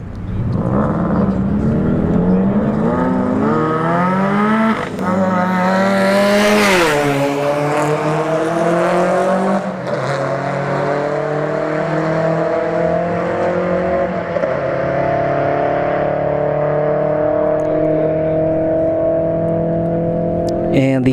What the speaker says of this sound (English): We got De La Performance in the Chevy Cruze Turbo versus a WRX